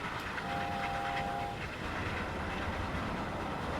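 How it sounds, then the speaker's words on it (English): The LNER A4 Mallard steam locomotive runs at speed in a video game railway simulation, producing a steady close rumble with rail clatter, and a brief whistle-like tone rises early on before the continuous running noise carries on alone. "Fastest steam locomotive in the world, ladies and gents"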